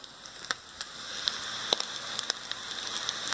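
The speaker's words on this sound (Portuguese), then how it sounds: "Aí já está fritando" Steady sizzling and crackling of mortadella frying in a pan for fishing bait, with scattered sharp pops over a constant hiss, fairly quiet and close.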